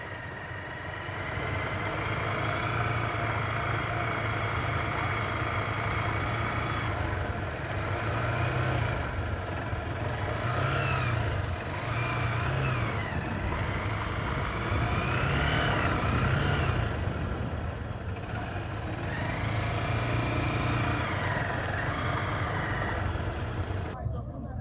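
Motorcycle engines rumble and idle steadily in the background, with occasional revving swells, amid an outdoor motorcyclists' meetup beside the BR-230 highway; faint voices mix in.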